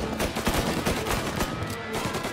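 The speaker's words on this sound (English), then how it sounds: "Who am I being shot at right now?" Rapid gunfire from the Mafia video game, a dense burst of sharp shots rattling out in quick succession at close range with no talk over it.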